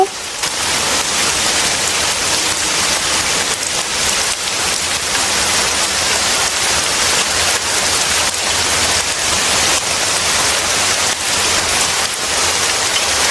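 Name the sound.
heavy rain falling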